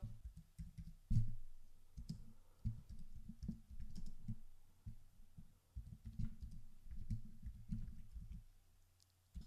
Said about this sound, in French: vous remplissez les cases avec le clavier de votre ordinateur